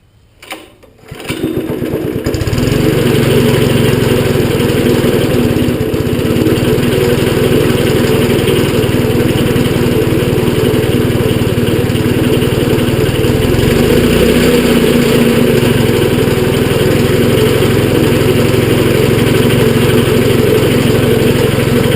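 A small engine on a Howey model 150 shaker sputters to life with the choke on after a brief start-up, then runs steadily and loudly at a constant drone for the rest of the clip.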